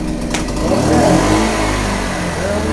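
A Powerhouse 1000 inverter generator runs on propane at high idle, a steady, loud mid-pitched engine drone with a brief rise in pitch partway through, close by and without any talking.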